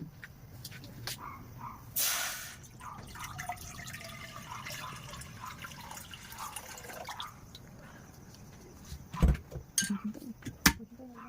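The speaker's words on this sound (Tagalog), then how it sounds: "At ngayon, maglagay tayo ng tubig sa kasirola." Water is poured into a saucepan in a home kitchen, giving a faint trickling, dripping splash with a few clinks and bumps of cookware, all fairly quiet.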